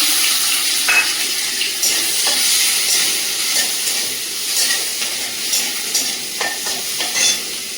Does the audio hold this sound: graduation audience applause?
no